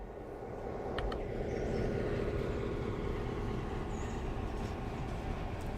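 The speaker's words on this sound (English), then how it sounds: "This is a fairly large train." A large freight train in the Railroader video game rumbles steadily along, a low continuous rolling roar with faint clicks and squeals on top.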